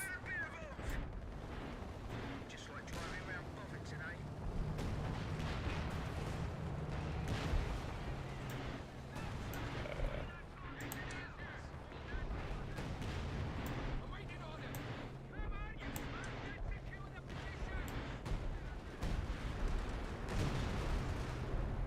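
Artillery barrage called in during a tank battle video game, a dense run of booming impacts and rumbling blasts rolling continuously and loudly throughout.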